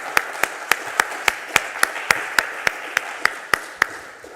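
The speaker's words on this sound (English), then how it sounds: "So I'd like to have a round of applause for AWS, Fastly, and CDN 77." A conference audience at GUADEC applauds its infrastructure sponsors AWS, Fastly and CDN 77 with a steady, evenly paced run of sharp, distinct claps over a soft bed of scattered clapping. The claps sound close and regular, with no talk over them.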